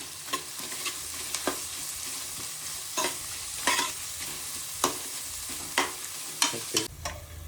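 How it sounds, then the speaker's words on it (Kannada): Onions frying in a pan for mushroom palav, a steady sizzle broken by repeated sharp scraping stirs of the spatula, close and alone with no talk. "ಫುಲ್ ಗೋಲ್ಡನ್ ಬರೋ ತನಕ ಫ್ರೈ ಮಾಡ್ಕೋಬೇಕು."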